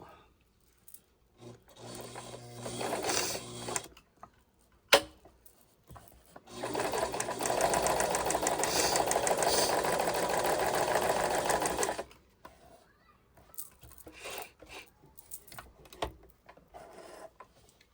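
A Brother VX 780 sewing machine stitches in two runs, a short burst and then a longer steady whir of about six seconds, close and clear, with quiet handling noises between.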